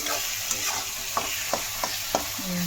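Tomatoes frying in a pan with salt give off a steady close sizzle, broken by a few sharp scraping clicks as they are stirred.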